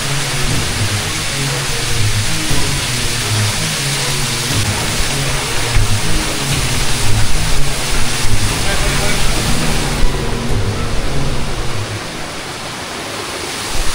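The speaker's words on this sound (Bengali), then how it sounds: "এইখানে হচ্ছে এরকম কিছু ঝিরি আর ঝর্ণা পাওয়া যাচ্ছে" A jungle stream and small waterfalls rush over slippery rocks in the Bandarban hills, a steady, loud broadband wash of water filling the whole stretch, with a low droning hum underneath that eases off near the end.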